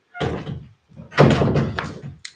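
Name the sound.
door being shut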